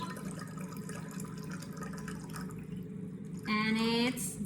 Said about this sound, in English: Pour till the last drop.